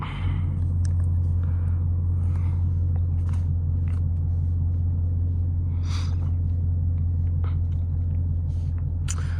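A deep, steady exhaust rumble from a straight-piped 5.0 V8 Mustang drones continuously at close range, heavy low end with faint higher clicks and rattles over it.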